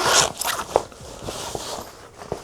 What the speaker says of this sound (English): It's got a little zipper pocket in the front